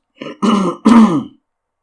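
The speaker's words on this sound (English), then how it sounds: "I hope I don't do this a lot because it's gonna be really annoying when I clear my throat" A man clears his throat close to the microphone in two or three short, rough bursts that stop quickly, followed by silence.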